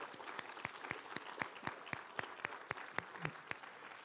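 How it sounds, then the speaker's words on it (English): Applause from a room audience at a Three Minute Thesis final, honouring all eleven competition candidates: steady, dense clapping with sharper individual claps standing out at regular intervals, loud and sustained for about four seconds. "let's give another round of applause for all 11 of our amazing candidates."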